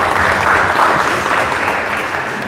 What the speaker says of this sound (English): let's give him a huge round of applause, everyone